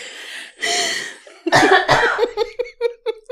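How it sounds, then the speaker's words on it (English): Several coughs in a row, close and loud, a couple of heavy hacks followed by a string of shorter, throaty bursts tapering off. "I'm gonna cough"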